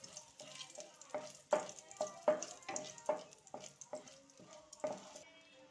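Bay leaf, dried red chilli and a little cumin frying in hot oil, a series of spatula strokes scraping and knocking against the pan in a fairly regular rhythm over a soft sizzle, close and quiet.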